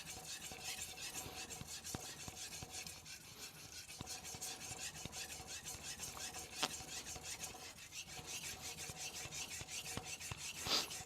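Kiritsuke knife blade rubbed across a wet King Neo whetstone in quick, even back-and-forth strokes, a close, continuous gritty scraping with no pauses.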